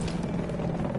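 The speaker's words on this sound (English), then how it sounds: "Hey, helicopter, pick me up." A helicopter in a Battlefield video game whirs with a steady rotor drone, close and sustained for about a second with no voices.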